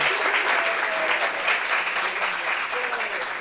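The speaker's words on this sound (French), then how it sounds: "On peut applaudir pour Maître Gims." An audience at a French talk show gives dense, continuous applause that stays loud and even throughout, with faint voices mixed in.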